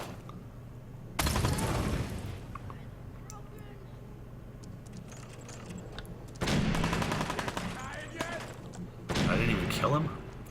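Explosions and gunfire in a Fallout 4 survival-mode fight where grenades are thrown at an enemy, heard as three loud booming bursts over steady background game noise, with someone talking in between.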